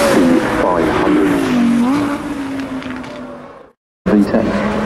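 A V10 car accelerates hard at the Goodwood Festival of Speed 2016, its loud engine note climbing through a revving pull before cutting out briefly and then bursting back in.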